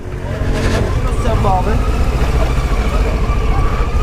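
A motorcycle brakes hard with its ABS rear brake on a road near Sarıgöl, its engine droning loudly and continuously throughout, with talk faintly audible over the noise.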